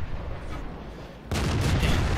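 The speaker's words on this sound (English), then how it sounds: "Just barely got that shot off." A tank cannon fires in World of Tanks from a KV-220 heavy tank, one sudden loud boom midway that cuts through a low engine rumble and leaves a sustained roar of echo behind it.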